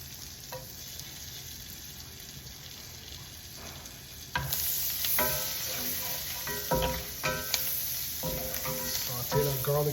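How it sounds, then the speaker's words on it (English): Garlic sautéing in butter in a hot pan for a cow tongue stew. A quiet start gives way to steady, close sizzling, with occasional stirring clinks and scrapes over the frying. "Saute that garlic in there, get it nice and aromatic in there."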